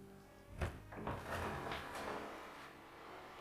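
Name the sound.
stone door being opened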